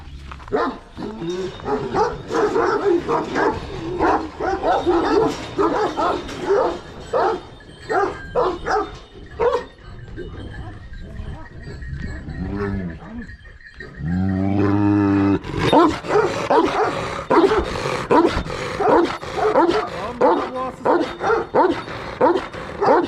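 Large dogs in Denizli bark repeatedly in loud, close bursts, several voices overlapping with a deep howl-like growl partway through, while someone talks among them.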